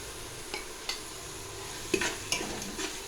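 Ground onion and ginger-garlic paste sauté quietly in a pan for mutton biryani, a soft low sizzle interrupted by a handful of clinking stirs from a metal spoon against the pan; no voices.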